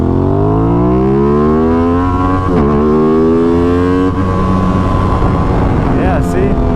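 A 2021 Aprilia RS660 motorcycle revving hard while being ridden, engine pitch climbing steadily through a gear with a brief dip at a shift, loud and close with wind noise and a rider talking.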